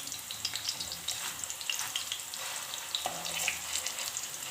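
Chicken kebabs fry in a pan for a chicken kebab handi, a steady close hiss of bubbling oil with faint crackles and the scrape of pieces being turned.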